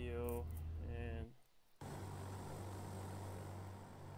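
A light aircraft taxies with a steady, droning engine hum that briefly cuts out, then returns as a broad, even rush of propeller and engine noise.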